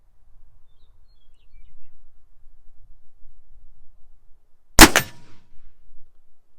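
A single sharp gunshot from a Remington revolving carbine cracks out at an outdoor range, one loud broadband blast with a short ringing tail, standing alone against quiet low rumble.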